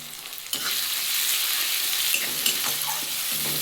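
Bata fish pieces fry with ground cumin, red chili powder and turmeric, a loud sizzle that surges in after a quiet start and continues close up with occasional stirring scrapes.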